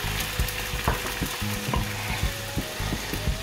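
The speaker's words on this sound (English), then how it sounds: "Then give it a stir." Half and half stirred into a sun-dried tomato cream sauce, a low simmering sizzle under repeated scraping and clinking of a utensil against the pan, close up, moderately loud, no voices.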